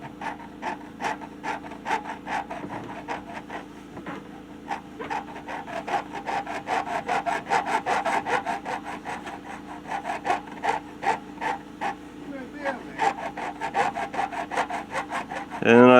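Steady back-and-forth rasping of a metal file working across guitar fret ends, a rhythmic run of scraping strokes that grows softer and smoother as it goes, close and alone with no talk.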